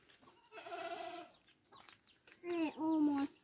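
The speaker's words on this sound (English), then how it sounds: "These are the chickens." Farm animals calling: a long bleating, harmonic cry followed by two shorter, louder bleats, fairly close, with faint background noise between.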